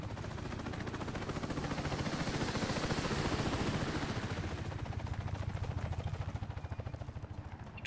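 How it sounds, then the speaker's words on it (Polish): A helicopter in the shooter game Warface, a steady rotor thump pulsing rapidly and swelling then fading at moderate loudness, with gunfire crackling mixed in and no talking. "Czy helikopter się kurde na mnie uwziął"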